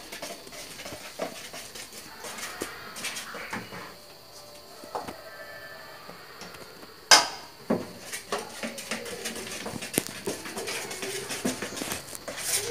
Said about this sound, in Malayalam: ഇങ്ങനത്തെ ഇതാക്കിയിട്ട് നല്ലോണം ഒന്ന് ഇളക്കണം